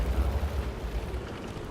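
An artillery shell from an M44 self-propelled gun bursts close by during a World of Tanks battle, a deep booming rumble with heavy low-end roll that fades gradually over under two seconds, with no voices.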